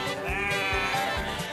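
Sheep bleating up close, a loud, wavering, drawn-out baa filling the moment with a few overlapping calls from the flock.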